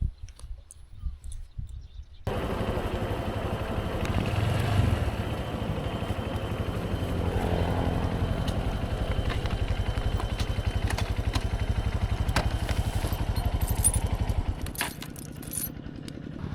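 A rented motorbike cruising a smooth road loop near Luang Prabang, its steady engine drone and wind rush starting after a quiet opening and holding loud and close for most of the ride before easing near the end.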